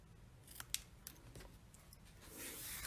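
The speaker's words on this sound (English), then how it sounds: "we're going to snip off this little flat piece there" Scissors snip through paper for owl punch art, giving several quiet, crisp cuts at uneven intervals followed by a soft rustle of paper.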